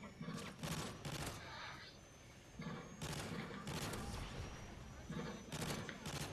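Bursts of automatic gunfire in Call of Duty MW3, with several rapid-fire volleys separated by short pauses, loud and close amid game ambience.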